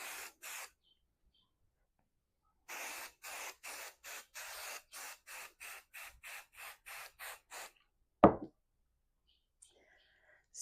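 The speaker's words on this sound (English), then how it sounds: "giving our batting a little spritz" Spray adhesive is spritzed onto quilt batting in two runs of short, rhythmic hissing bursts, ending in a sharp clack and then quiet.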